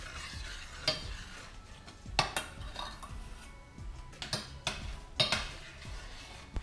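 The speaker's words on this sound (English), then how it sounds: "there's still a few chunks in there, so we're gonna keep on stirring" A spoon stirs chocolate as it melts in a pot, scraping and clinking against the sides in an irregular rhythm of sharp knocks, close and fairly quiet.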